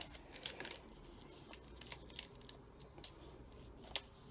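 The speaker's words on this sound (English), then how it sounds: "use just your regular Scotch tape, cut it off" Regular Scotch tape being cut with scissors at a craft table, a few faint, quick snipping clicks scattered over a quiet background.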